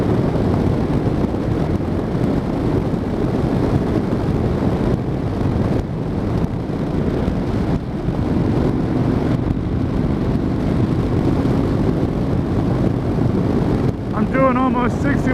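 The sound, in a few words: Honda NC700X motorcycle riding at highway speed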